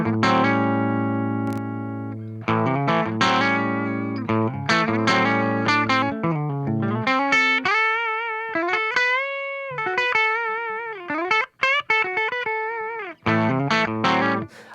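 Clean electric guitar played through a Phoenix Tilt tone control, a melodic line of plucked notes and sustained tones, clear and close with no voices.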